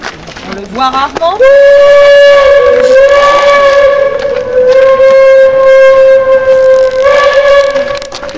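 A steam locomotive whistle sounds a long, loud, steady blast after a brief rising start, with a second swell near the end; a voice speaks briefly over it.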